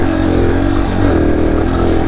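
A Yamaha TTR230 dirt bike engine running steadily while riding on a trail, a continuous mid-pitched drone with little change in load, loud and close with no voices.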